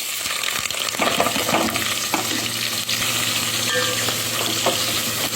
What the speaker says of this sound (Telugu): ముందుగా మసాలా దినుసులు వేసుకోవాలి ఇవి కొంచెం వేగినాక ఎరగచ్చు